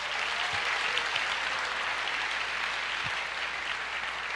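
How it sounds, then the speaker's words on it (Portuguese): A church congregation applauds in a steady, dense wash of clapping that fills the whole stretch at an even, loud level with no talk over it. "Você pode aplaudir o Senhor"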